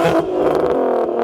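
A 2004 Volkswagen R32 with an APR cold air intake and a catless test pipe gives a short, loud rev that swells and drops back within about a second.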